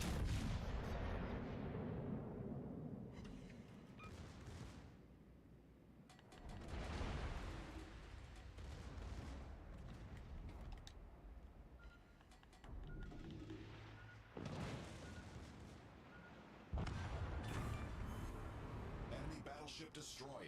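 Naval gunfire from battleship guns in World of Warships Legends, a series of deep booming salvos and rumbling blasts spread across the clip, with a person talking over the game sounds.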